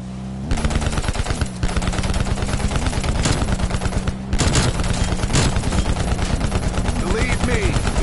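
Rapid automatic gunfire in Call of Duty Cold War zombies mode, loud and continuous for most of the clip with brief pauses, with voices talking faintly underneath.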